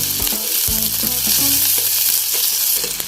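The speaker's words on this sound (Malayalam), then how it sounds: "അരിഞ്ഞു വെച്ചിരിക്കുന്ന സവോളയും പച്ചമുളകും ഇതിലേക്ക് ചേർക്കാം. നന്നായിട്ടൊന്ന് വഴറ്റിയെടുക്കാവേ." Chopped onions and green chilies sauté in hot oil in a pan, a loud steady sizzle running throughout with spatula scrapes and stirring knocks near the start, close and with no talk.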